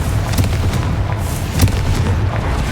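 Confringo fire spell explosion in the Hogwarts Legacy video game, loud booming blasts with a rolling low rumble and a few sharper cracking bursts in quick succession, close and dense.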